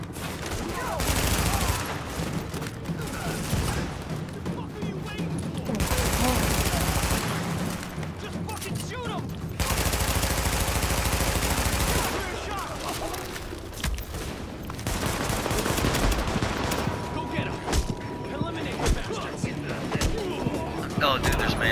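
Bursts of pistol fire from a group of gunmen in the video game Tom Clancy's The Division, loud and sustained in long stretches with brief pauses between them.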